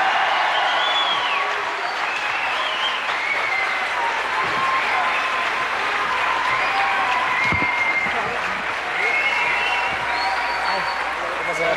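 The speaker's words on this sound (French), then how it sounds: "Applaudissements." Studio audience on the French TV show Coucou c'est nous claps continuously, a dense, loud, even wash of applause with a few cheers and whistles mixed in.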